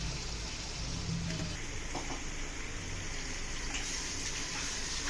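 Water pours steadily into a cooking pot holding marinated chicken for a Hyderabadi-style chicken dum pulao with basmati rice, a continuous rushing gush with no talking.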